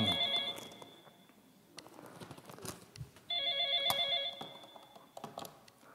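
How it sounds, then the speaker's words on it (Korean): Old-style telephone bell ringing in two bursts in an office scene from a staged church drama, the second burst starting about halfway through, loud and close, with scattered knocks and movement between rings and no clear speech. "그 전화 받아라"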